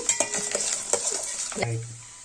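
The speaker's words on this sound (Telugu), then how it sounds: "నెయ్యి వేడెక్కిన తర్వాత ముందుగా మనం తరిగి పెట్టుకున్న కొబ్బరి ముక్కల్ని ఫ్రై చేసుకోవాలండి" Coconut pieces fry in hot ghee for sweet rice, a soft sizzle broken by several light clinks and scrapes of a spoon against the pan before fading to a quiet hiss.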